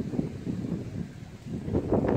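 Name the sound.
strong wind by a lake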